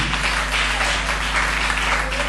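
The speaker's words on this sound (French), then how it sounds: "Acclame Jésus." Applause from a church congregation, a dense steady wash of clapping lasting a couple of seconds, moderately loud and filling the room.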